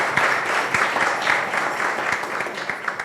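An audience applauds steadily in a hall during a literary discussion, a dense, continuous patter of clapping heard from the crowd for a few seconds.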